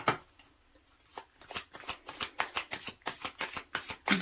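Tarot cards shuffled close up, a quiet pause then a run of quick rhythmic riffles and soft slaps, a dozen or so flutters in a row with no talking.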